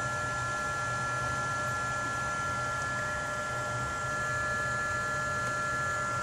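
An improvised RF detector circuit held near a VFD drive gives a steady electrical buzz and hum from interference, continuous and unchanging, close up, with no talk.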